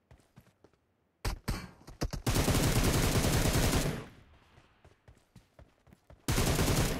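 Gunfire in PUBG Mobile: a few scattered single shots, then a dense, loud burst of automatic fire lasting a couple of seconds, quieter separate shots, and another heavy burst at the end.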